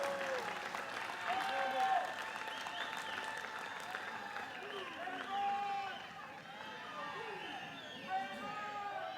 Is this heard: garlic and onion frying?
no